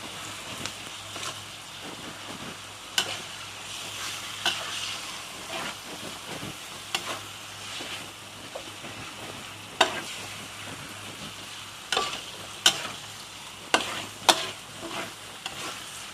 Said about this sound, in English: it's time to add in the pork